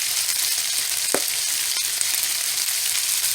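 Fajita meat sizzling in a hot pan, a loud continuous hiss of frying close up with a brief scrape of stirring partway through.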